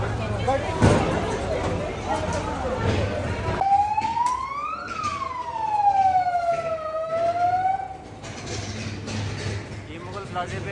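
Fire engine siren arriving at a burning plaza after a short-circuit fire, a loud wailing tone that rises and falls in long sweeps, preceded and followed by crowd noise and voices.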